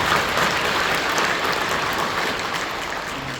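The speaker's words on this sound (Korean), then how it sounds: "우리 격려하며 박수해 주시죠." A Korean church congregation applauds in encouragement during a worship service, a dense continuous roar of clapping from many hands that holds steady and eases slightly toward the end.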